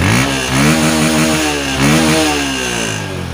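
A Honda Verza motorcycle engine, suspected of worn piston rings and faintly smoking exhaust, revs steadily up and down at close range, with a rough, buzzing mid-pitched drone and no talking.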